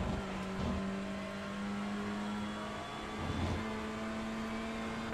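A TCR touring car in a racing game at Donington Park, its engine droning at steady revs, dipping briefly as it short-shifts to fourth and then pulling on at a new, even pitch.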